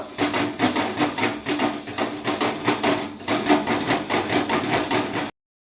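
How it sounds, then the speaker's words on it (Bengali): Mung dal with husks dry-roasting in a pan at home, a steady near hiss and sizzle with rapid rattling and scraping pulses repeating throughout, no voices. "এই ডালটা আমি একটু ভেজে নেবো"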